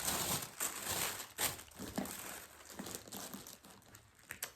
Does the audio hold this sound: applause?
no